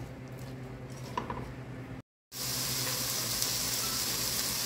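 Onions fry in a pan with a soft, steady sizzle. After a brief silent cut, the sizzle returns brighter and louder and continues to the end.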